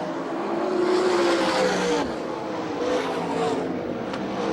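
360 sprint cars roar through a heat race on a rough dirt track, a dense, loud continuous engine drone with rising and falling passes, close and unbroken.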